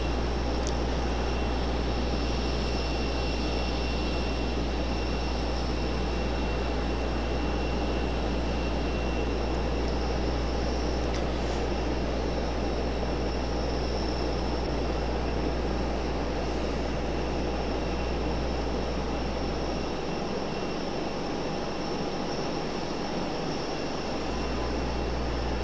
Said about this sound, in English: Got 2 arrivals coming in on 5 right.